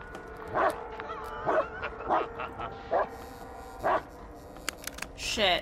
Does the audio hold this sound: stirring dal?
no